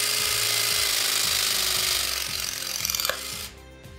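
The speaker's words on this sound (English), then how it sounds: "And then we're just going to pull the trigger and make the press." A pressing gun crimps a fitting onto multilayer pipe with a loud, rapid mechanical chatter that runs for a few seconds, then releases with a short click and dies down.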